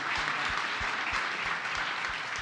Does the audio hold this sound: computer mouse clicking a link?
no